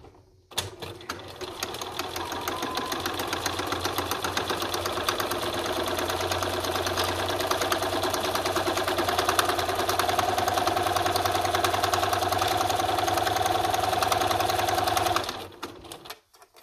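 A sewing machine stitches a wrist strap in one long, continuous run of rapid, even needle chatter with a low motor hum, close and loud, before stopping abruptly near the end.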